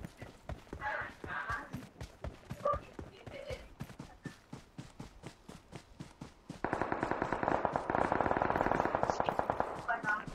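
Gunfire in the mobile battle royale game PUBG Mobile: rapid bursts of automatic shots, then a long, loud continuous volley near the end, with a voice briefly heard over the shooting.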